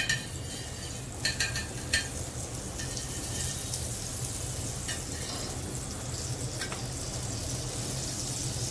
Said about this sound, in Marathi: त्या अगोदर मला तव्यावरती थोडं बटर टाकणार आहे.